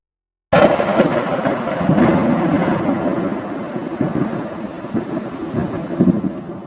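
Loud thunderstorm with heavy downpour bursting in abruptly, a dense steady roar of rain with rolling rumbles of thunder throughout, no voices.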